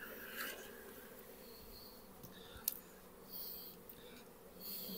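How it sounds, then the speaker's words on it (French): Honeybees buzz around an open Kenyan top-bar hive, faint overlapping drones of several insects passing close and receding, with a few brief knocks. "il y a des abeilles dans mon dos qui ne doivent pas savoir où aller"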